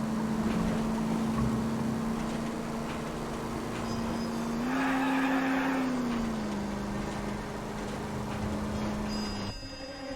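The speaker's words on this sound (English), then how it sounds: "it's going to do like a cool fucking like handbrake slide" In a video game, a car does a handbrake slide. A steady droning engine note rises briefly while a rough hissing skid noise swells over it, then both settle back to the constant engine hum.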